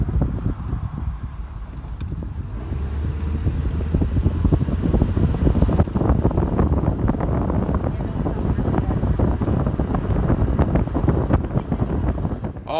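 2013 Nissan Versa driving after an exhaust repair with a custom sleeve, a continuous road and engine rumble mixed with wind noise and a voice talking over it.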